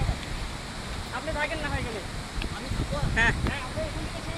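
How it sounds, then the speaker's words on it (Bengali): Amiakhum waterfall roars as a constant, close, full wash of rushing water, with people's voices heard over the noise. "এই সে অসাধারণ একটা ভিউ। অমি হুকুম ঝর্ণা"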